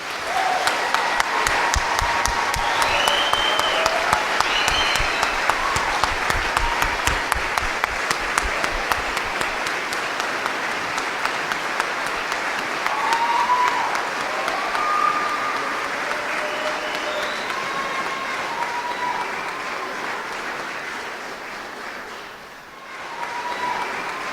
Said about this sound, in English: please join us in a final applause for the Army's newest soldiers